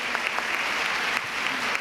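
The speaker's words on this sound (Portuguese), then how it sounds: "Dá um aplauso aqui" A church talk-show audience applauds steadily, producing a dense, even wash of clapping with a few sharper claps, loud and continuous throughout the short burst.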